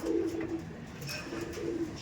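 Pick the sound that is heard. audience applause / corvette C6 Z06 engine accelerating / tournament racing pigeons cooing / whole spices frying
tournament racing pigeons cooing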